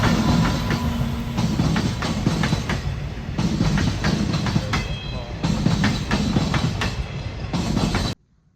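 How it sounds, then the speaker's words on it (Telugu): A train rolls past on railway tracks close by, loud and continuous with steady rumble and clickety-clack of wheels for about eight seconds before cutting off abruptly; a voice briefly talks over it. "గాయ్స్ ట్రైన్ వస్తుంది,"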